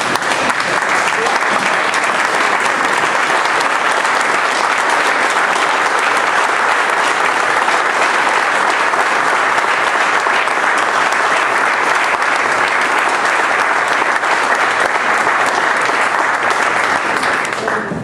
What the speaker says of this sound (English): I think that we owe this woman a standing ovation.